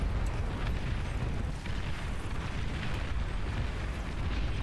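Anti-nuke interceptors striking an incoming nuke in the strategy game Beyond All Reason: a sustained rumbling, crackling explosion roar with scattered pops and bursts, steady and fairly loud throughout.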